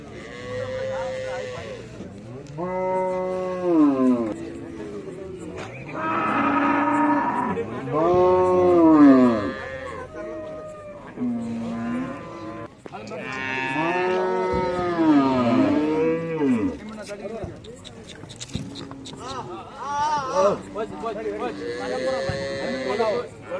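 Native cattle and bulls at an open-air cattle market in Valliyur call out with long, loud, drawn-out moos that overlap and follow one another, mixed with crowd noise and occasional shouting voices.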